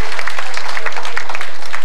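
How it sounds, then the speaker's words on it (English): Steady audience applause at a business association inauguration gala in Mississauga, dense clapping from a roomful of people, loud and continuous for a short stretch. "No, thanks for the applause."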